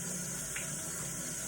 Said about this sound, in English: wash our hands before we do the cooking. There we go, rinse those off